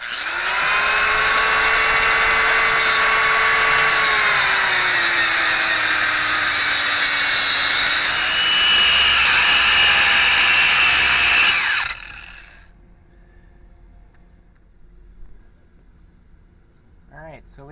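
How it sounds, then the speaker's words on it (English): A cutoff wheel grinds through an old sway bar from a 1995 S-10 with a loud, high whine that shifts pitch as it bites. It stops abruptly at about twelve seconds, leaving a faint, quiet background. "we got our trusty cutoff wheel. We're gonna give that bad boy a nip right in half"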